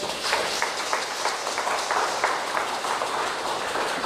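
Applause from an audience at an indigenous Warao community event in San Fernando and Siparia: a dense, steady wash of many hands clapping, fairly close and sustained throughout with no voices standing out.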